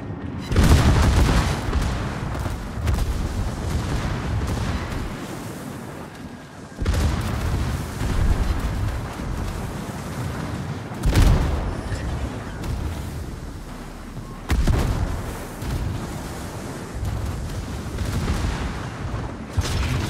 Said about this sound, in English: Shooting some secondaries at you